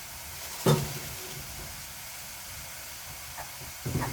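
Pork mince is added to a pan while sautéing dragon beans. A sharp burst of sizzling comes as it hits the oil and settles into a low, steady hiss, and a couple of smaller stirring crackles follow near the end.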